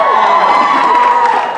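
A convention panel audience screams and cheers loudly in a sustained wall of high-pitched shrieks and whoops, close and dense, fading slightly at the end.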